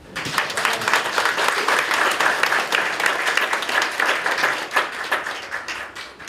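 An audience at a world mission forum in a church breaks into lively applause, individual claps clearly audible, rising and falling over several seconds.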